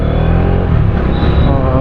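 Bajaj Dominar motorcycle being ridden on a solo road trip, a loud, close, steady engine drone mixed with wind rumble throughout the brief stretch.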